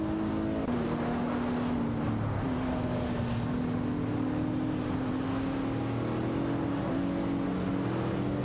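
Maserati MC12 GT1 race cars in a racing video game hold a steady, loud engine drone, their pitch shifting slightly as they run together, with no talk.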